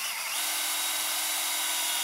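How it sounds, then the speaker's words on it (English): A hand drill bores a tap hole slightly uphill into a maple tree, giving a steady, close whirring grind with a sustained tone that holds after a brief start-up. "you just drill uphill a little bit like this."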